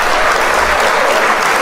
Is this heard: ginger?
no